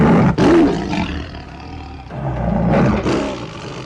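A tiger roars loudly and close by in two powerful bursts, with growling rumbles between them and no talking.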